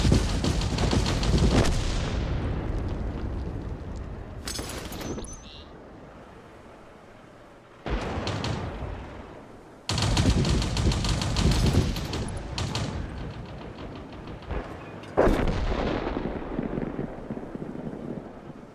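Tank cannon shots in World of Tanks, fired from a G.Pz. Mk. VI: several loud, booming blasts spaced seconds apart, each with a rumbling decay, with a voice talking over the gameplay.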